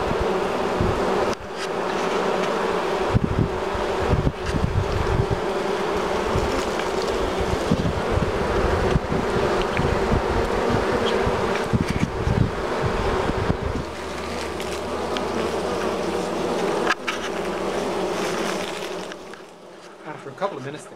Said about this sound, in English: all the other bees started fanning and going to the same little hole where she had gone in